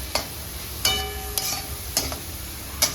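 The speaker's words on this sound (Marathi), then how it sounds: "चांगली परतून घ्यायची शिमला मिरची परतली" Capsicum sautéing with onions in a pan for pav bhaji makes a soft sizzle, broken by about five sharp scrapes and knocks of a spatula at irregular intervals; nobody talks.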